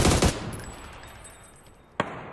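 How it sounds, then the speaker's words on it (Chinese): Gunfire in a first-person shooter game, a short rapid burst at the start, then a fading tail and one more sharp single shot near the end. "开枪了，我确定啊"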